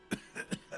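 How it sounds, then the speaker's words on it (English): An aging man in the video game Disco Elysium breaks into a coughing fit: four short, harsh coughs in uneven succession, fairly quiet and close. "The aging cryptozoologist breaks into a hideous coughing fit."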